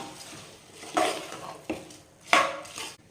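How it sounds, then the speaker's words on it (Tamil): Soaked basmati rice being stirred into masala in a pan for country chicken biryani: a spoon scrapes and knocks against the metal in a few sharp, separate clinks, close by and without voices. "இப்போ இந்த மசாலோட நம்ம மிக்ஸ் பண்ணிக்கலாம்."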